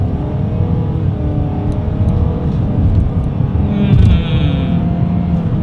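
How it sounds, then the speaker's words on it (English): A 2020 Nissan Sentra accelerating along a straightaway, its engine droning and rising in pitch from inside the cabin, swelling louder toward the end with road noise beneath. "let's see how quickly we can get this one here up to speed"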